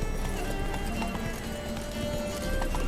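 Hooves of Roach, Geralt's horse in The Witcher 3, clip-clop in a steady fast gallop, close and continuous, with a brief whinny and game sounds layered in.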